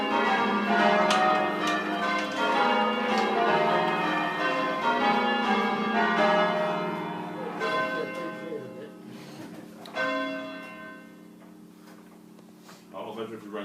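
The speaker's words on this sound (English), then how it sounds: "there are 8 bells in the tower" Eight church bells in the tower of Barking Abbey are rung by bell ringers, overlapping in a rich sequence of resonant strikes that decay and thin toward the end, with voices faintly present.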